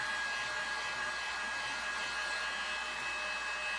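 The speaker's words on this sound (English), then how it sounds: "Carefully begin to apply heat." A heat gun blows steadily while warming a latex rubber bat cowl fitted over a head form, a constant airy whoosh with a faint whine, moderately loud and unbroken, with no talking.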